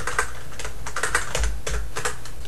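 Typing a command on a computer keyboard: a quick, uneven run of close key clicks and taps lasting a couple of seconds, with no voice.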